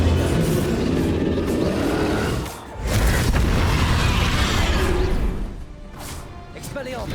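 Confringo fire spells burst in Hogwarts Legacy on Switch combat, heavy booming blasts and crashing impacts repeating over loud battle noise, with a brief lull near the middle.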